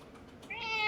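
A pet cat lets out a single short, rising meow near the end, close and fairly quiet against a hushed room.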